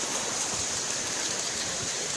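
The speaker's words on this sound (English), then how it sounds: "Maybe if I go where Josh is, you might be able to see the small waterfalls" Small waterfalls make a constant rushing wash of water, steady and fairly loud with no voices.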